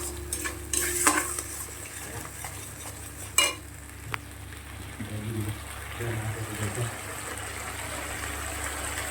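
Mustard spice paste frying in a pan for an eggplant and puti fish curry, with a low sizzle and intermittent clinks and scrapes of stirring, plus a sharp utensil knock partway through.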